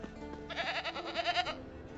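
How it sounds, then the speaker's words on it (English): A goat in The Witcher 3 gives one loud, wavering bleat of about a second. It rises out of quieter game ambience and is heard alone, with no talk over it. "Oh, that's the goat."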